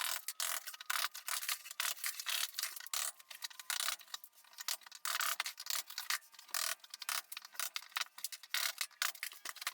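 A spatula scraping and prying kitchen tile backsplash off along the grout lines, with dense, irregular scratchy clicks and rasps close up, continuous throughout.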